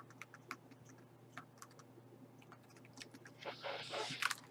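A computer keyboard typed on during a Kingdoms and Castles play session: faint scattered key clicks, then a louder, denser flurry of typing near the end over a steady low hum.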